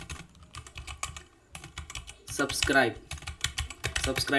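Dart code is typed on a computer keyboard in quick, uneven bursts of close key clicks, with a voice talking over the middle of the typing.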